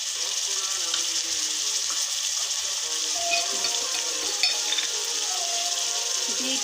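Garlic and ginger paste frying in a pan for a Bengali chicken shahi rezala, giving a steady, close hiss of hot oil that holds constant throughout with small crackles; a voice speaks faintly over it.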